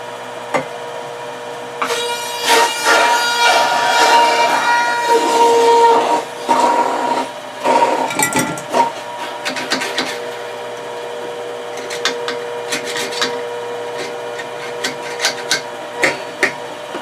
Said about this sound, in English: continue to juice or grind up the rest of the celery in the pure